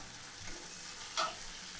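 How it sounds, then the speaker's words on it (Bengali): Black cumin, dried chilli and onion fry in hot oil, giving a steady faint sizzle with one brief louder crackle partway through. "তেলের মধ্যে কালো জিরে দিলাম আর শুকনো লঙ্কা পেঁয়াজটা দিয়ে ভেজে নেব।"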